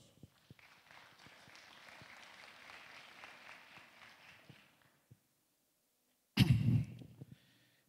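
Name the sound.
loud applause at anniversary ceremony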